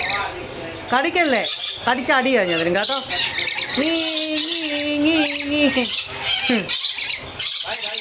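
Parrots at the bird stalls of Crawford Market in Mumbai give loud, harsh squawks and rising calls, several in a row close by, while someone talks over them.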